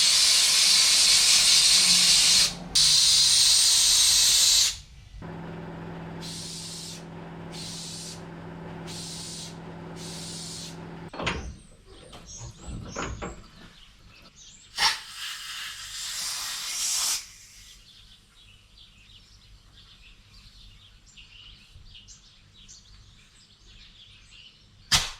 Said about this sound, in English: blow some air through these and test them on my little test rig